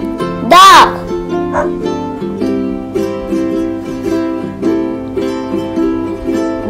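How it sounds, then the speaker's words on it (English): One loud, sharp dog bark stands out near the start, with a softer yip after it, over steady background music. "Dog."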